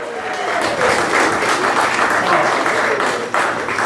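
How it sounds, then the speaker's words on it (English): An audience at an over-55 condo community comedy show gives a big round of applause for the host, a dense, loud, sustained clapping from many hands filling the room without letup. "Give Nancy a big round of applause."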